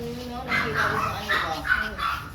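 Two Pomeranian dogs giving short, high yips and barks in a quick irregular series, close by, with a person's voice talking over them.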